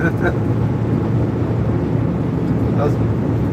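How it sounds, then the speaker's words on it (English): Garbage truck engine roaring steadily through a gear while driving, a broad continuous low rumble that stays loud and even throughout, with faint voices underneath. "Gotta grab a gear to hear that engine roaring."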